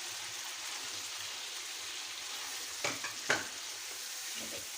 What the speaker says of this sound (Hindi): मसाले जो हैं वो अच्छी तरह फ्राई हो गए हैं, तो अब हम इसमें टमाटर ऐड करते हैं।